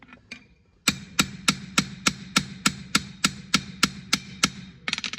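A rivet on a frame handle being hammered flat, about a dozen sharp, evenly spaced metallic blows ringing close and loud, followed by a brief cluster of quicker taps.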